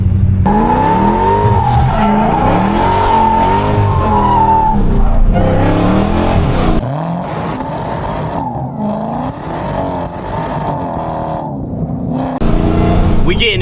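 A Dodge Hellcat slides through turns with its tires squealing, a sustained high screech over the roaring engine, breaking off and returning in bursts as the car is thrown around; a voice talks intermittently.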